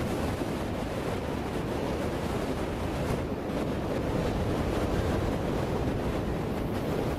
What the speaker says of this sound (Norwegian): For vinden blåser stort sett I den samme retningen her ute.